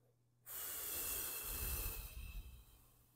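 A single slow breath drawn in through the nose, then released in a long, soft exhale, close and quiet, during a guided relaxation exercise.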